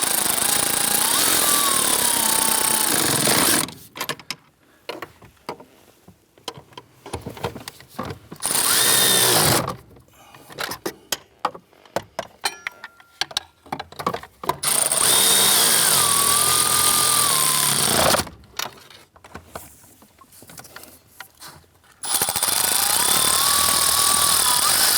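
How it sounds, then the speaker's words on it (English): A power tool drives down the four 13mm nuts on an HVAC blower motor assembly in a 2008-2013 Nissan Rogue, loud and close, in three long whirring bursts with quiet pauses between them. "Let's go ahead and tighten down all 4 of the 13mm nuts"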